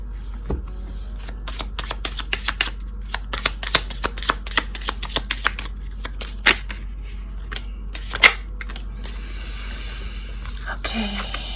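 Tarot cards being shuffled close up for a card reading, a long run of rapid, crisp paper riffles and flicks with irregular sharp snaps, soft and fairly quiet throughout.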